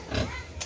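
A pig gives a single short, low grunt at close range, with no talk over it.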